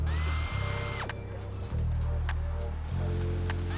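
A power tool removes the three bolts holding the ECU on a 2019-or-later Hyundai Veloster Turbo, its motor whirring loudly in three bursts with brief ratcheting clicks between them, close and without talk.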